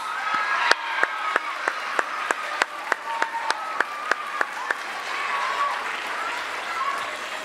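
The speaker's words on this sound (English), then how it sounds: "Let's give this first group a round of applause." A small audience at a junior high school awards ceremony gives a thin round of applause. Distinct, separate claps ring out at a steady rhythm over a soft crowd murmur, then fade after about five seconds.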